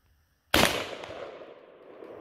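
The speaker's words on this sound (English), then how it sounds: "I'm going to shoot between the second one and the first one as fast as I can" A single loud blast from a short-barreled .410 shotgun at an outdoor range, a sharp crack after silence that decays into a long rolling echo.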